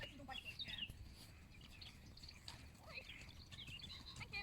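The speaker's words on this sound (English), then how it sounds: "horses walking past" Horses walking past outdoors, faint clip-clop hoofbeats with an occasional whinny and birds chirping in the background, quiet and somewhat distant.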